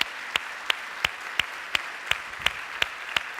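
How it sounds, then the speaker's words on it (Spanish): A single pair of hands claps in a steady, evenly spaced rhythm, about ten sharp claps, moderately loud over a quiet background, during applause for teachers at a church. "Un fuerte aplauso para todos los maestros."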